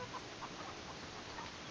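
Chickens clucking on a small farm, a steady broadband wash with faint scattered clucks and bird calls throughout, fairly quiet with no talking.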